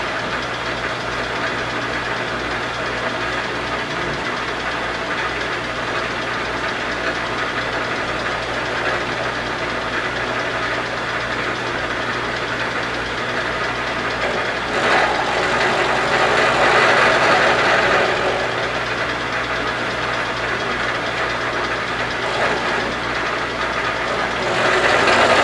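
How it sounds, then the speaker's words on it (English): A bandsaw cuts through a piece of steel stock for a quick-change tool post T-nut, a steady continuous grinding drone that holds at even loudness throughout, swelling slightly midway and near the end, with no talking. "Bandsaw only cuts so straight, but it's a bandsaw."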